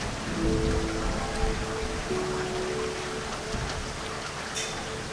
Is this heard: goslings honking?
no